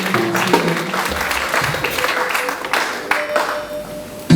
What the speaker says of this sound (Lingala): Nous acclamons très fort Léon.